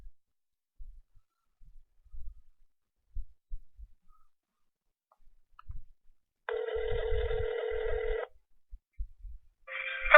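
Telephone ringback tone heard on a call back to a pet shop: one long ring burst, followed by the start of a second at the end, over faint low handling thumps and quiet line noise.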